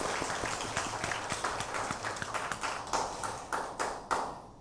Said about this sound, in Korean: 이 시간 우리 함께 박수로 축하해 드리도록 하겠습니다